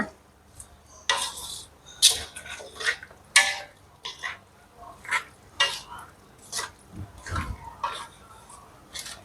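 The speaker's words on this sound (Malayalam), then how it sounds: "നന്നായിട്ട് ഇളക്കി കൊടുക്കുക." Ambazhanga pickle being stirred in a pot after water is added, a series of close, irregular clinks and scrapes of a spoon against the pot, recurring every second or so with quiet gaps between.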